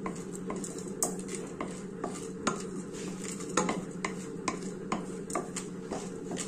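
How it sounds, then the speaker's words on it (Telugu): Urad dal roasting in a pan on a low-flame stove, with repeated light scraping and clinking strokes of a spoon against the pan over a steady low background hum. "మినపప్పు అనేది కొంచెం రోస్ట్గా వేయించుకోవాలండి, ఎర్రగా వేయించుకోవాలి"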